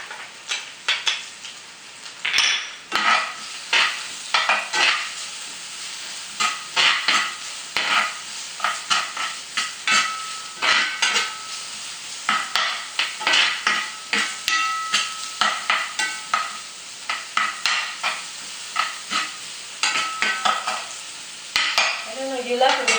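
Onions and garlic sizzle in a pan for a beef stir-fry, with steady frying hiss broken by frequent clattering stirs of a utensil against the pan.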